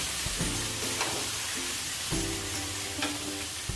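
Jackfruit curry stirred in a hot pan after meat masala powder goes in, a loud steady sizzle with repeated scraping strokes of the spoon, close up.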